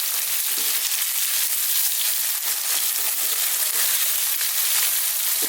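Onions with a garlic and ginger paste fry in a pan over fairly lively heat, a loud continuous sizzle with occasional stirring scrapes and crackles.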